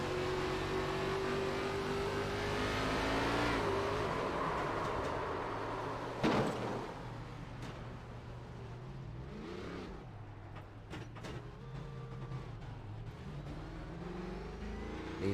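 Loud engine roar from inside an ARCA Menards race car during a race, revving and shifting with a sustained drone and occasional sharp bursts, no talking.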